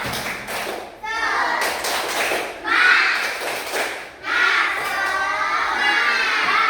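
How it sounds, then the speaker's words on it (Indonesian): A classroom of pupils performs a rhythmic 'tepuk semangat' clapping chant, bursts of claps and children's voices coming in loud rounds with brief pauses between. "Tepuk semangat."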